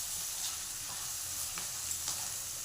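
Capsicum curry with rock salt is stirred in a hot pan, a steady close sizzle with faint scraping strokes of the spoon.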